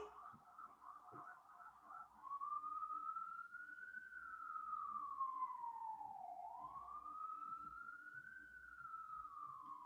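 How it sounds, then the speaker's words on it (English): A wailing emergency siren rises and falls slowly, steady and fairly distant, with low traffic rumble beneath and no other sounds. "Y'all hear them sirens going on my end?"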